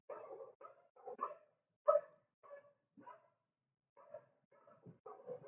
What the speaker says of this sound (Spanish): Se colaron los perros ladrando acá en la clase